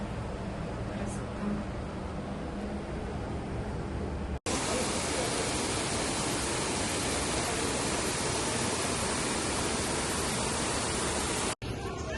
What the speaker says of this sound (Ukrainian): Е, тут взагалі капець який водоспад